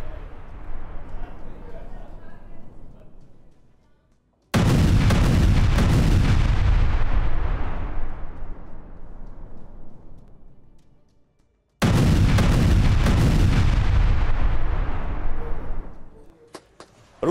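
Heavy gunfire and artillery between Russian and Ukrainian armies: two massive, sudden booming bursts that each roar loudly for several seconds and slowly die away, with a fading rumble before them.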